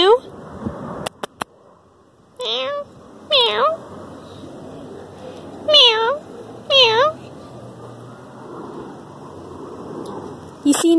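A cat meows several times at close range, short rising-falling cries in separate bursts, while a person talks softly between them.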